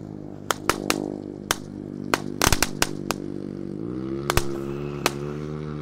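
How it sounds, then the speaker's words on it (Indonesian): A 'tank' firecracker goes off nearby in scattered sharp pops and cracks, some in quick clusters, over a steady low mechanical hum. "yang kita nyalakan di sini ada mercon tank. Sudah menyala."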